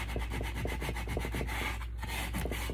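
Hand sanding a small protruding piece of wood on a kitchen riser, a close, quiet, rapid back-and-forth scratchy rubbing in a steady rhythm throughout.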